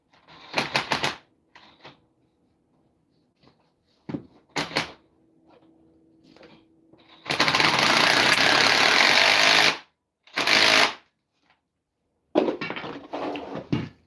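A sway bar link on a 2011 Dodge Ram 2500 is tightened with a 15 mm tool, heard as sharp ratcheting clicks and bursts of a loud power-tool whir with quiet gaps between them.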